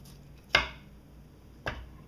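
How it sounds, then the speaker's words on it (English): A knife cutting through the wing joint of a whole raw chicken: two short, sharp chopping cracks about a second apart, close and crisp, with quiet in between. "putting it at tension, cutting through the joint"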